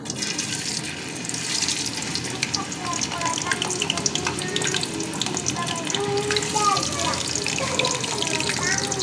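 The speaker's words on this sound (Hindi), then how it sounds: "ऑयल हमारा गर्म हो चुका है। तो अब हम इसमें अपनी चिप्स डालेंगे।" Potato and gram flour chips fry in hot oil in a wok, giving a steady, loud bubbling crackle throughout, with faint splashy water-like sounds and a few clinks mixed in.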